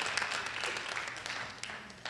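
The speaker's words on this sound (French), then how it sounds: "Est-ce qu'on peut l'applaudir, s'il vous plaît," Steady audience applause at a French church talk, a continuous dense patter of many hands clapping for about two seconds with no speech over it.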